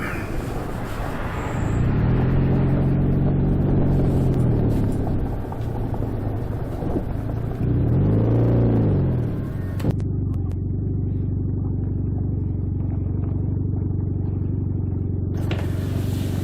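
Motorbike rolling down a bumpy track, engine note rising and falling with revs, rumbling close, then settling into a steady low idle-like drone after a knock, no talk.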